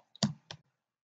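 A computer mouse clicks close and crisp in a quiet room, with a small tick and then two sharp clicks a fraction of a second apart.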